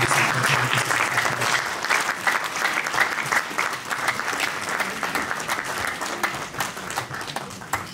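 A funeral congregation breaks into sustained, dense applause to acclaim Jesus, a loud, steady wash of many hands clapping together for the whole stretch, with faint voices mixed in.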